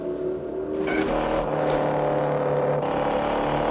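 Engines of cars racing through a chase sequence in the 007 film The Man with the Golden Gun, a steady loud roar with rising and passing surges, no talk.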